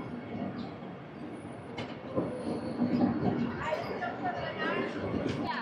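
The Vijayawada–Chennai Central Vande Bharat express rolls along with a steady rumble, wheel clatter and faint squeals, while voices speak over the running noise inside.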